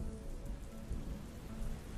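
Heavy rain falling in a storm, a dense, continuous hiss of drops pattering on surfaces with a low rumbling undertone, steady and close for the whole short stretch.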